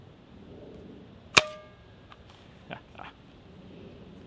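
A Hatsan FlashPup PCP air rifle fired once at a small outdoor target at dusk: a single sharp, loud crack, followed a moment later by a few faint distant ticks of impact.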